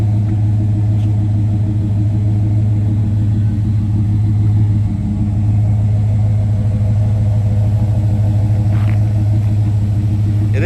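A 1987 Chevrolet R10 long-bed truck with a fuel-injected 5.7L V8 idling steadily, a deep continuous low rumble held close and even throughout with no revving or voices.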